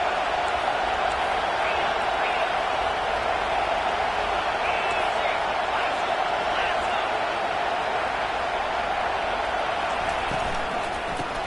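Steady roar of a stadium crowd cheering in a college football video game, a loud continuous wash of noise with game commentary talking over it throughout.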